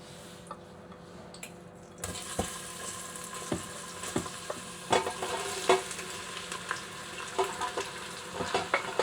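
Vegetables for a white bean and spinach dish sizzle steadily in a hot pan, with frequent scraping stirs and clicks of the spoon. The frying starts abruptly and continues close and fairly loud without talk.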